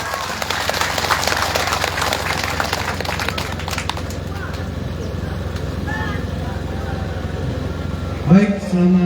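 An outdoor crowd applauds candidates arriving at a political rally, a broad rattling wash of clapping that thins out after a few seconds, leaving murmuring voices and a brief thump near the end.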